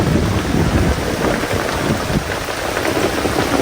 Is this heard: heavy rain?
yes